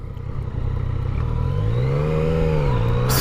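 A 2016 Yamaha XSR 900 motorcycle engine revs up under throttle, its pitch rising and holding in a loud, steady drone close by, with no talk over it.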